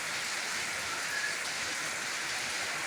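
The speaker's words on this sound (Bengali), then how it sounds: "এই যে বাইরে তুমুল বৃষ্টি।" Heavy rain pours down outside a cattle farm shed in Narayanganj, with water leaking through the roof, a steady dense hiss of falling water that is even, loud and close, with no talk over it.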